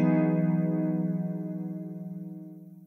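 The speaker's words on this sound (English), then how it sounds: "The rate and depth knobs can be adjusted to change both the speed and amount of the flange effect." A single sustained guitar note run through a flanger effect from a Fender software effects rack, sweeping and shimmering as it slowly fades over a few seconds.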